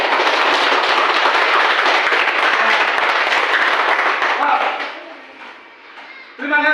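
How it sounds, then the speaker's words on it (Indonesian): A classroom of students applauds together at a teacher's prompt, a dense, loud burst of clapping that fades out after several seconds, followed by a brief sound at the end. "Tepuk tangan untuk kita semua."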